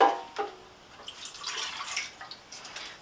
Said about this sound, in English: So 3/4 of a cup of water goes into the pan.